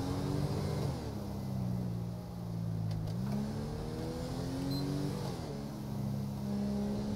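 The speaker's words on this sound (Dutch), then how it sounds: "Die motor hier trekt mijn aandacht en die gaat best hard" A motorcycle engine in GTA 5 revs and accelerates steadily, its pitch climbing and dropping through gear shifts, loud and continuous with no talking.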